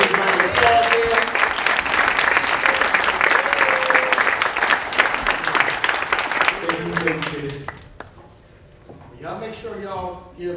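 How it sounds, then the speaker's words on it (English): A crowd at a realtors' board installation gives past board presidents a loud, sustained round of applause that fades out, after which a voice begins speaking. "Let's give a big round of applause here."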